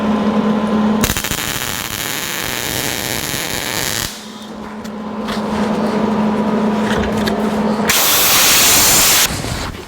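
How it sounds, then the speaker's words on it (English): Compressed air blasts onto a fresh weld on a 1949 Chevrolet gasser front end, loud hissing bursts that start and stop abruptly, separated by steady hum and shop noise. "Weld a little bit, then blow it off to keep it cool."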